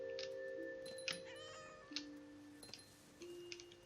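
A cat meows several times in the video game What Remains of Edith Finch, short separate calls over a quiet, faintly ticking game background.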